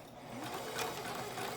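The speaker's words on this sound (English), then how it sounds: "I'm gonna sew on the edge of my rolled hem." A sewing machine running steadily along the edge of a rolled hem on a three-layer fabric mask, giving a continuous close mechanical whir with a fast needle rhythm and no pauses.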